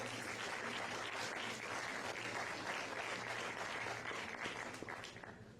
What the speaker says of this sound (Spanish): Regalémosles un fuerte aplauso,